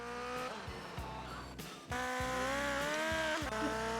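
A motorcycle engine during a race in GTA Vice City Stories, revving hard with rising and falling pitch through gear changes, close and loud with brief tire squeals and no talking.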